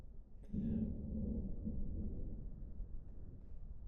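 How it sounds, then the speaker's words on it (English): A low, soft rumble of distant thunder rolls steadily under quiet forest campsite background noise, faint and sustained with no voices. "it's still thundering over here. Not very loud thunder, very mild right now"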